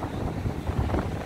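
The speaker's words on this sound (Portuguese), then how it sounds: "o vento hoje tá batendo forte" A strong wind blows at Barra da Tijuca beach in Rio de Janeiro, making a brief, steady, loud rush that buffets the microphone, with no voices.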